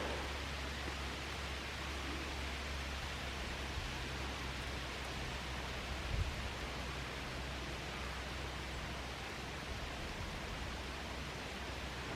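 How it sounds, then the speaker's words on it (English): Rain falls on leaves in woodland along Monk's Trod near Teifi Pools, a soft, steady hiss of countless drops that holds unchanged throughout, broken by one faint bump, with a low hum underneath. "You just hear the rain on the leaves"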